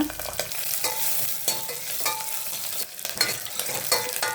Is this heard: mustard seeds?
yes